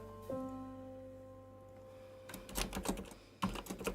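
Two short bursts of computer keyboard typing during a game development session, close and fairly loud, each a quick cluster of key clicks over a steady low hum.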